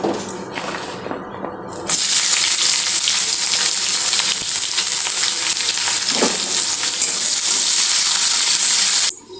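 Chopped onion hits hot oil already holding whole garam masala, bay leaves and dried red chillies, setting off a loud, steady sizzle that holds for several seconds without talk.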